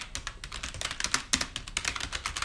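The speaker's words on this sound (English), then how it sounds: "even if I was using a keyboard, and if I was just, clicking," Rapid, uneven clicking of keys on a computer keyboard, close and continuous with no voices.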